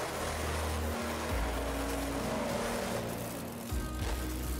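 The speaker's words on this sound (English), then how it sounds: "I like the engine noise that Pouncer makes" A monster truck engine in the video game BeamNG.drive drones with a deep, continuous roar, its pitch stepping up and down as the throttle changes, loud and close throughout.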